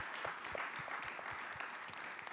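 An audience at a conference session on clean cooking solutions claps in thanks for the speakers, a fairly faint, fast patter of hands heard from a distance.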